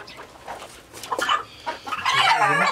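A rooster on a backyard farm gives loud, close clucks and a short crowing call, sounding alone without talk.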